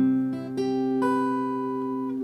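Acoustic guitar notes ring out in a short intro riff, a few plucked notes changing pitch, sustained and clear, played solo.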